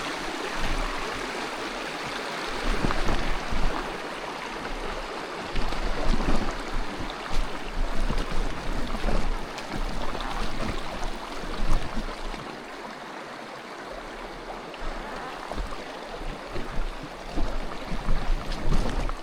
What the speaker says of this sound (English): would be mountain biking down the middle of a creek.